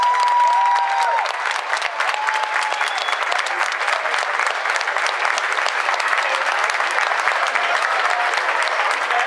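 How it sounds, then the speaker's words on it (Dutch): A school show audience breaks into loud, sustained applause, dense clapping that carries steadily for the whole stretch from a nearby crowd. "Geef ze dan maar eens een daverend applaus."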